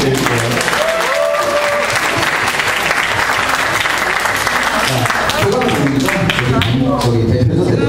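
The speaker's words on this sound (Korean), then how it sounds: "다시 한번 박수 크게 한번 부탁드릴게요" Audience applause after a performance at a graduation party, a dense, steady roar of many hands clapping throughout, with voices and cheering mixed underneath.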